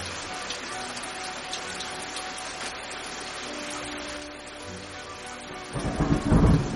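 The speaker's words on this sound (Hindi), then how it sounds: "आज इतने जोर जोर से बादल गरज रहे हैं और बारिश भी हो रही है" A steady wash of rain with low thunder rumbling through, swelling into a louder, deeper roll near the end.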